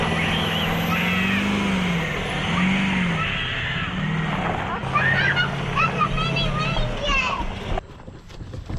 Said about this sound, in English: The trailer's here, truck's here, surprisingly.